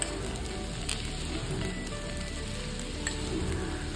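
Puff filling sautéing in a pan with fennel powder and salt, a steady dense sizzle and crackle of frying that runs evenly throughout with no voices over it.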